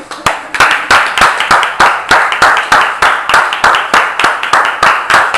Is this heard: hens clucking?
no